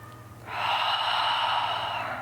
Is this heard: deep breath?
yes